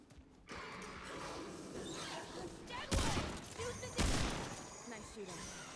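Gunfire in the video game Remnant 2 comes as a loud burst near the three-second mark and another at four seconds, with lighter rattling bursts and game noise around them and talk from the players.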